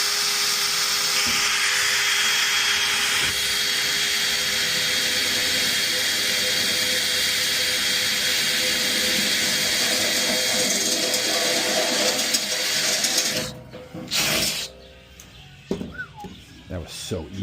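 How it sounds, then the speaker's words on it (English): A hand drill bores through stainless steel with a loud, sustained high-pitched whine and grind for about thirteen seconds, then cuts off into scattered clatter and handling noises. "I don't know if you guys have ever tried to drill through stainless steel."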